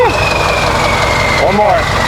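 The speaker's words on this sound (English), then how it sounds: "Give it a rev." A Ford 7.3L Powerstroke diesel truck engine fitted with a KC turbo runs loud and close, with a turbo whistle and a brief rev swell, while people talk and exclaim over it.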